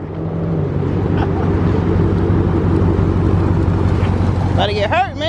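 A Dodge Charger Hellcat pulls up close with a loud, steady supercharged engine drone and rumble, a voice rising over it near the end.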